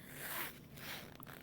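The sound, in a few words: zipper being unzipped on a sewn tote bag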